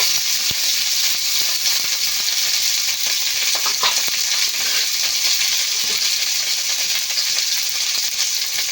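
Bitter gourd fries in oil in a pan for Bengali shukto, a steady close sizzle with occasional stirring clicks and scrapes running throughout.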